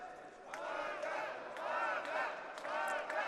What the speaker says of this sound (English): good response from the crowd